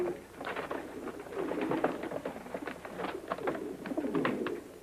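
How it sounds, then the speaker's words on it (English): Carrier pigeons coo and burble in a steady, overlapping chorus, several birds close by, with soft wing flutters mixed in. "Sounds like pigeons."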